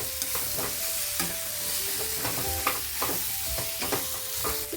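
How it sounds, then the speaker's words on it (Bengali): Fried mixed vegetables sautéed with spice masala in a pan, a soft steady sizzle broken by repeated scraping and clinking of a spatula stirring against the metal, with no voices. "এখন অ্যাড করে দেবো ভেজে রাখা ভেজিটেবিলগুলো দিয়ে মাথার সঙ্গে ভালো করে কষিয়ে নেব"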